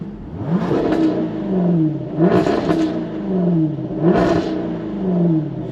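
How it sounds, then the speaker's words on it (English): A loud Jaguar F-Type R V8 engine revs hard three times in a row with the exhaust button on, each roar rising and falling away, with a rumbling idle between blips. "Because this is an earlier car, it's actually one of the louder V8s as well."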